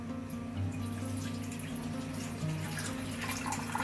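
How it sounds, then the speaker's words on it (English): Water is poured slowly into a vessel, giving a soft, steady trickle and splash close by that holds for a few seconds. "So slowly pour some water into the vessel"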